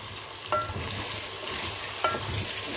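Chicken with boiled chickpeas frying in a pan for a spicy curry, a dense steady sizzle with two brief utensil scrapes, close and alone without talk.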